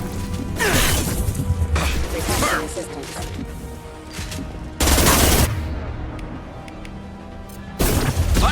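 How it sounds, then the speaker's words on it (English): Bursts of gunfire from the video game Mass Effect 2, with loud rapid volleys and sharp impacts separated by quieter stretches of game ambience. "Firing a high-impact shot."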